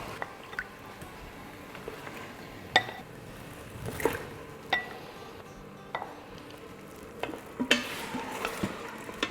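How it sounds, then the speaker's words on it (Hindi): Bone-in meat stir-fried in a pot for street-style haleem, a low continuous sizzle broken by repeated sharp scrapes and clinks of a spoon against the pot. "अब इसको हम इतना भूनेंगे कि इसका कलर चेंज हो जाए गोश्त का।"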